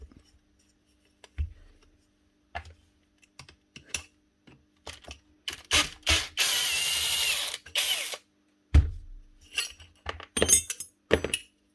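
A nut and bolt being removed from a Bostitch GF33PT gas-powered nailer, with scattered metallic clicks, ratcheting and a sustained loud wrench-turning burst in the middle, close and intermittent with no talking.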